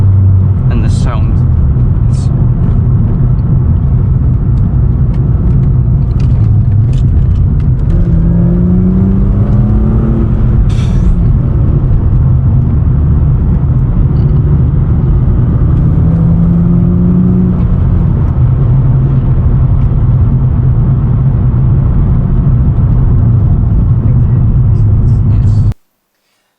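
BMW E36 323i Coupe engine heard from inside while driving, a loud steady rumble with rising and falling revs through gear changes, continuous throughout.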